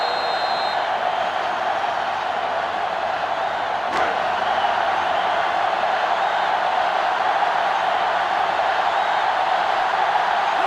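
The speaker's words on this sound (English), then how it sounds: "this crowd is going crazy" Stadium crowd in NCAA Football 2005, USC at Tennessee, roaring steadily and loudly for the whole stretch as a dense, unbroken wall of cheering with no pauses.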